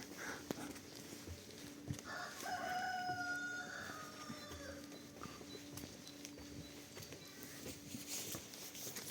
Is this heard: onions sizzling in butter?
no